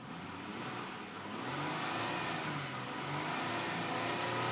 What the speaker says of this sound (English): So I'll let you guys hear the engine pretty quick.